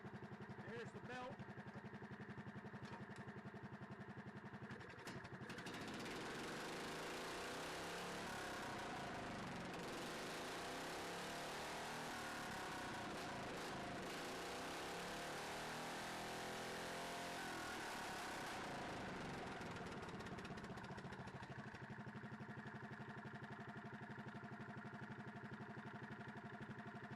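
A Cushman golf cart engine catches on the first crank and keeps running, a steady mid-pitched putter that surges and revs in the middle before settling back to a rough idle, with people talking over it.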